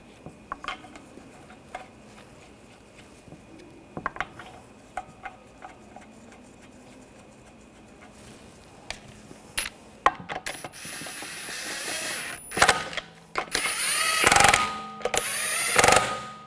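Lug nuts being spun by hand onto the rear wheel of a 2013-2022 Buick Encore, giving quiet ticking and ratcheting clicks that build into louder metallic rattles and scrapes near the end, with no talk.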